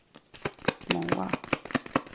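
Tarot cards are shuffled close up in a quick run of crisp riffling slaps and flicks, with a voice talking over part of it.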